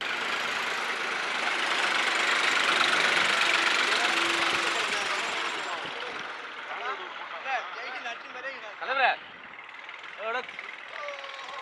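A tractor carrying ballot boxes, polling materials and officials up to a hill village in Dharmapuri drones loudly for several seconds, then fades down as people talk over a quieter engine hum.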